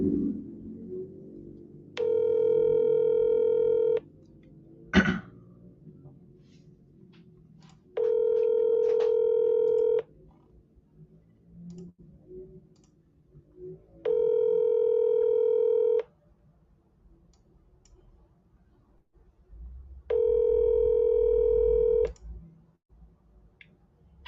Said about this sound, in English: All right, let's try Jamie again.